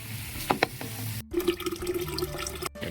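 River water pours and splashes into a cooking pot for Bicol Express, with a couple of clinks of metal before a steady gurgling stream, close up.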